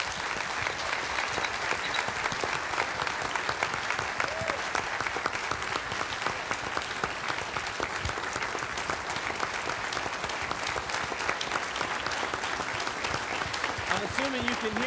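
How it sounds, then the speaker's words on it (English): A church congregation applauds in steady, dense clapping that fills the whole stretch without letting up. "I'm assuming you can hear the applause."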